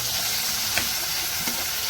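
Onion and garlic sautéing in a pan, a dense continuous sizzle and hiss with a couple of soft stirring scrapes, close and steady.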